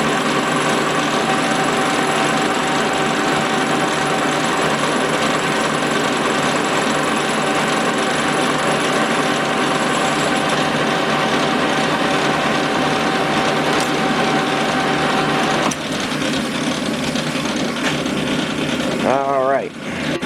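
A metal lathe takes a face cut on a set of pie dies, a loud, steady mechanical whir and hum that carries on unbroken before shifting and winding down near the end.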